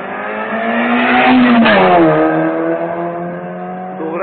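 A turbocharged Honda race car in Sofia accelerates with a loud, close engine drone whose pitch climbs, shifts down, then holds steady, with no voices.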